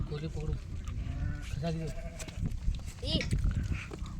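Sheep bleat repeatedly while herders milk them at a village farm, the calls close and loud and mixed with steady talk from people nearby.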